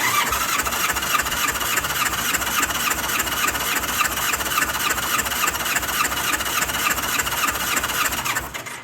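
A Honda Goldwing motorcycle engine cranks over with the throttle held wide open during a compression test. It gives a steady, loud, rhythmic churning close by that runs unbroken and then stops abruptly.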